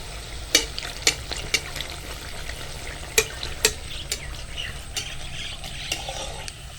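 Dhakai paratha frying in oil in a pan, with a continuous close sizzle broken by sharp, scattered crackles and pops, no talking.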